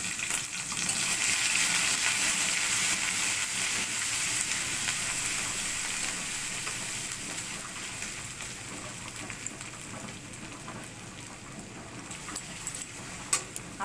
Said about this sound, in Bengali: আদাটা একটু ভাজা ভাজা হয়ে গেছে